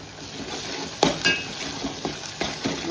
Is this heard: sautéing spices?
yes